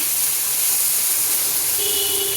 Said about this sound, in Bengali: রসুনটা আমি লাল করে নিচ্ছি, দেখেছেন। রসুনটা একটু লাল করতে হবে